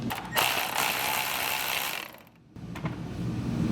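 A ratchet and socket loosen a grille nut on a 2019-2024 RAM 2500/3500 HD truck, producing a dense, close whirring clatter that stops briefly and then resumes, with no voices.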